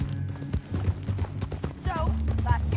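Horse hooves clip-clop steadily in the Red Dead Redemption 2 video game, a close, rhythmic clatter running under background game music and dialogue.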